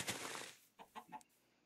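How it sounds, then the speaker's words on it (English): Chickens cluck in the Minecraft video game, a brief burst of game sound followed by three short, separate clucks, fairly faint and with no talk over them. "Those chickens are following me."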